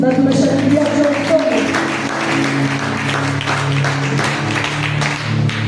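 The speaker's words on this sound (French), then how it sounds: "Et on acclame pour la lecture" Church congregation at a Sunday service applauding after the reading, a dense continuous clapping from many hands throughout, with voices and a low hum underneath.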